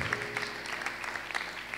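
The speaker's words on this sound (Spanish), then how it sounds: "dale un aplauso al Señor" A church congregation applauds, a faint, steady patter of many hands heard from a distance beneath a low hum.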